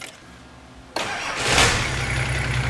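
A freshly swapped factory-turbo diesel engine in a GQ cranks for a moment, then fires and settles into a loud, steady idle close by, with no talking.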